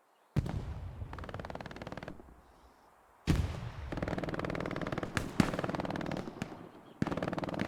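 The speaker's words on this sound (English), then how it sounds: "Great shooting there by the Vanguarda guys" Gunfire bursts in a competitive video game match at a mansion backyard, several rapid automatic-sounding volleys with short gaps and a few sharp single cracks, moderately close, no voices.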